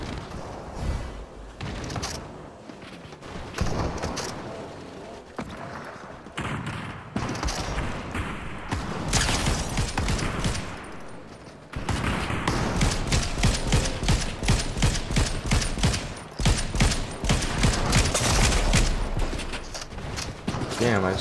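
During a Fortnite match, sniper rifle fire cracks within dense, sustained bursts of gunfire and thumps, loud and continuous throughout, with a player talking over the shooting.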